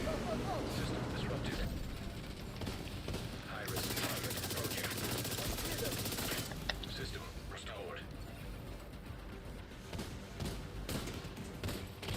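Rapid automatic gunfire rattles almost without pause while shooting at an enemy in The Division, with dense mechanical clatter and occasional thuds, loud and close, mixed with faint murmuring.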